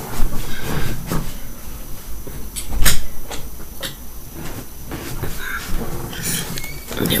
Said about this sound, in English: Let me just open this door.